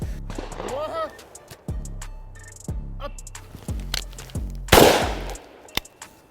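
Several sharp rifle gunshots ring out at uneven intervals during shooting drills, each a loud crack with a short decay, while someone speaks between them.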